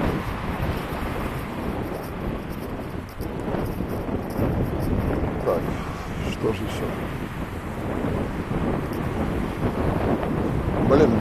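Strong wind buffets a microphone outdoors in Krasnodar, a constant low roar with gusty rumbles throughout, while someone speaks briefly over it.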